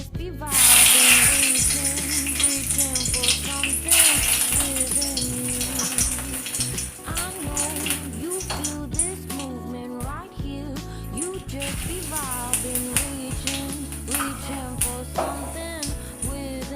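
Bay leaf, dried red chilli and whole cumin sizzle in hot mustard oil for a Bengali moong dal tempering, a steady close crackle and hiss with occasional spoon clinks and stirring rattles.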